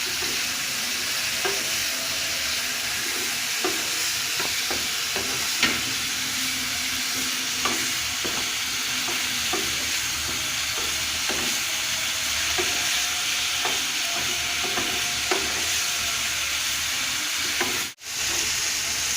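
Grated carrot frying with whole cardamom and cinnamon, a continuous close sizzle broken by regular scraping stirs of the spoon across the pan; no talking.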